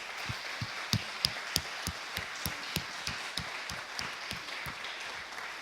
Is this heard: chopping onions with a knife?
no